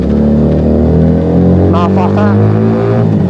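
Close, loud drone of a Keeway SCR 250V motorcycle fitted with a Mavionic aftermarket exhaust, a deep steady tone rising gradually in pitch as it revs, with someone talking over it.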